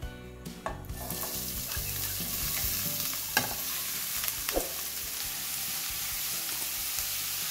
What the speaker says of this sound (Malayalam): ഈ സവാള ഇതിലേക്ക് ഇട്ടിട്ട് വഴറ്റി കൊടുക്കാം